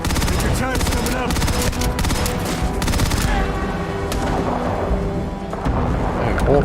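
Weapon fire in the video game Starfield: a dense, loud stream of rapid shots that runs for a few seconds, then gives way to a fading rumble and scattered reports.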